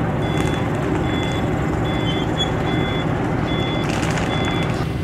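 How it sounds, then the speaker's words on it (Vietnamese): A truck backs onto a river ferry in Ben Tre with a steady, loud reversing beeper sounding in repeated beeps over constant engine rumble and ambient noise. "Có cái xe tải đang dè nó qua nè."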